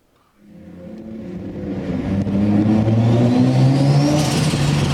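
A car engine starts from quiet and revs up, rising in pitch and loudness over a few seconds before holding a strong, steady roar.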